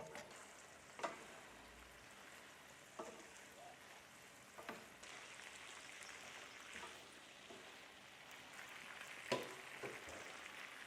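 Green beans and shallots frying in a pan over high heat, giving a steady close sizzle with occasional sharper pops and utensil clicks, no talking.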